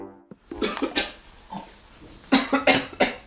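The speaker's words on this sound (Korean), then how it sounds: "가볍게 기침을 하기 시작합니다" Several short coughs in two clusters, close by, with brief pauses in between and no talking.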